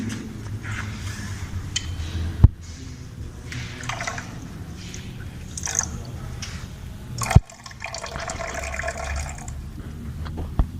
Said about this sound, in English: So I have to pour some water.